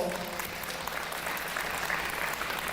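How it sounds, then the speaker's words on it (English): A school audience claps steadily throughout, a dense, even wash of applause from a crowd indoors at a middle school event, with no clear voices standing out. "Round of applause."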